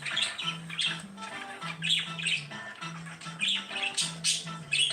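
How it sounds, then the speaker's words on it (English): Loud, harsh bird squawks repeat in quick bursts throughout, with a steady lower tone underneath and no voices. "the birds, they make a lot of noise."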